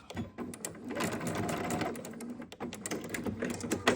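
Sewing machine stitching a quarter-inch seam on a fabric hair bow, a steady close rapid mechanical whir that runs continuously with a brief dip partway through.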